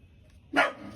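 A pet dog gives one sudden sharp bark after a near-silent stretch, loud and close, with faint background hiss before it and nobody talking.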